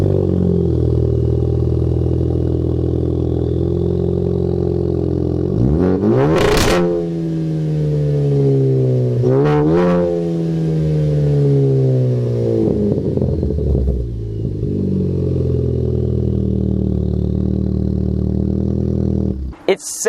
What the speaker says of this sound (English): now I will include this exhaust clip, but keep in mind, this isn't the standard exhaust on an ST.